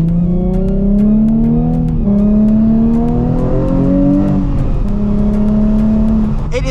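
A 2007 Nissan 350Z HR's engine drones loudly and continuously, its pitch climbing and dropping through several revs and downshifts, with a sharp burst near the end.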